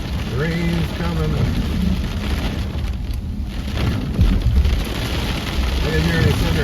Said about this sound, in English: Yep, rain's coming down.